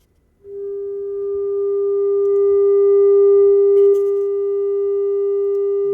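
Steady pure test tone played through a speaker driven by a Class D amplifier, picked up by a microphone held close to it. It starts abruptly after a short silence, holds one constant pitch, and swells slightly louder, with a faint click near the middle.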